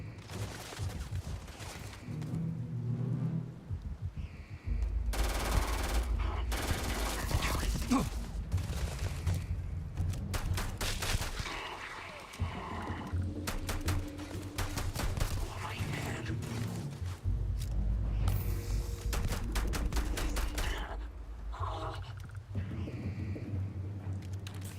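Enemy gunfire in the sci-fi shooter Starfield: Shattered Space, sustained bursts of weapon fire with mechanical clanks, loud and dense across most of the stretch with brief lulls between volleys.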